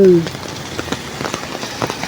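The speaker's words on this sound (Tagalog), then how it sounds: "Sobrang lakas ng ulan." Heavy rain pours on the Maharlika Highway national road, a steady dense patter with scattered louder drops, briefly joined at the start by a voice.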